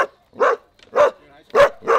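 A dog barks while attacking someone in the Las Vegas desert, four loud, close barks in a quick uneven rhythm with short gaps between them.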